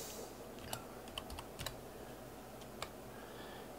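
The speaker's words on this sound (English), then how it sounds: "Type in my username" Sparse, quiet keystrokes on a computer keyboard while a username is entered in the dark, a few isolated clicks spread over a low steady hum.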